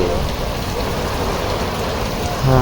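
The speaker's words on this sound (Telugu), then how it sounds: "వర్షం మొత్తం కంటిన్యూస్గా ఇంత వర్షం పడుతుంది" Heavy, continuous rain pours down at night during a thunderstorm, a loud, dense, steady roar of drops hitting surfaces up close, unbroken throughout.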